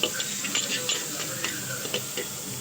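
Ginger garlic paste fries in oil with browned onion, giving a steady sizzle broken by small clicks as it is stirred. Close and moderately loud, with no talking.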